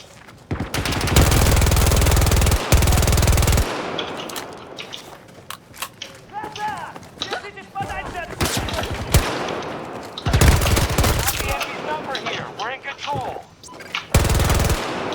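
Gunfire in Battlefield 2042 battle royale play, loud sustained bursts of automatic fire alternating with rapid single shots and clatter, close and dominant throughout with brief gaps between bursts.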